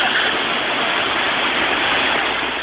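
Swollen river floodwater after days of nonstop rain rushes in a loud, steady, unbroken roar, strong enough to sweep away a military jeep, with no voices.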